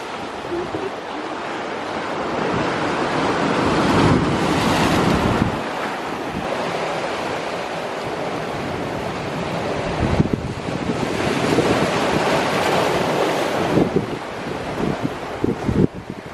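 Sea waves crash and splash against round rocks on a California shore, a steady roaring surf with louder bursts of spray, buffeted by wind noise on the microphone.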